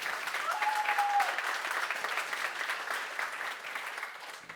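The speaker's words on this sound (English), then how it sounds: "Warm applause, please" Warm audience applause at the Neos Con 2024 awards, steady and moderately loud, holding evenly for several seconds before tapering slightly at the end.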